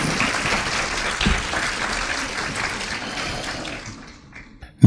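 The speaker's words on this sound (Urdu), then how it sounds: "آپ سب کی بھرپور تالیوں میں" Studio audience applauding in a TV studio, dense loud clapping that gradually thins and fades out before a brief sound at the end.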